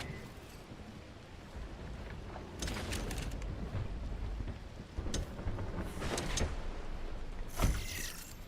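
Rain falls steadily in a video game while thunder rolls in with several bursts and crackles, some sharp and some rumbling, over the continuous wash of rain at moderate loudness.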